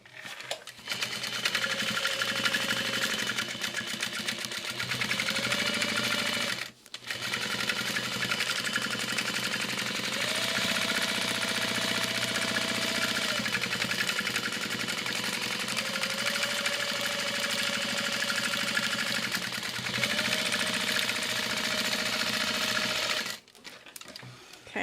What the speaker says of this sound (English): So I can just go ahead and baste all the way around.